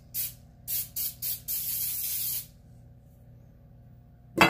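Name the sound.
spraying a Pyrex baking pan with cooking spray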